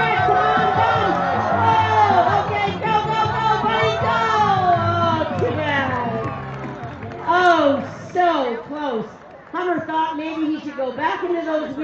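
Spectators at a dog agility run during a large dog festival in Toronto cheer and shout together, a loud sustained crowd roar full of overlapping voices that swells, dips briefly, then rises again near the end.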